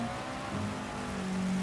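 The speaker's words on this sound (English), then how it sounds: "It is raining hard." Heavy rain during a Gran Turismo 7 race at Spa, a steady broad wash of spray mixed with the continuous drone of race car engines at moderate loudness.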